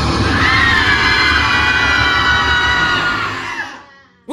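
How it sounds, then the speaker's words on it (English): A group of voices screams at once, loud and close, in a dense shrill burst that holds for about three seconds and then fades out, ending with a short bang. "Everybody screamed at the same time, right into my left ear."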